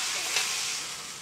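Beef searing in a pan on a Big Green Egg grill, a steady close sizzling hiss that fades slightly toward the end.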